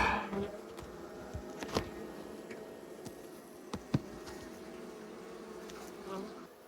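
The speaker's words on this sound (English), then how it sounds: "There's a yellow jacket fighting them." Bees and a yellow jacket buzz at a beehive cutout: faint, continuous humming with a few brief louder passes close by, no talking.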